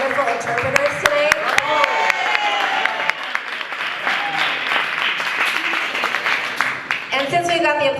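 Steady applause rolls through an audience at a 2018 Bay Area arts awards event, loud and continuous, with a person talking over the clapping near its end.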